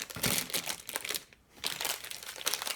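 Candy packaging from a box of milk chocolates crinkles loudly and close up in bursts of plastic rustling, with a brief pause in the middle.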